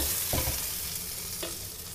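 Carp fish frying in oil in a pan makes a close, steady hiss with a couple of brief clatters from the pan, and no voices.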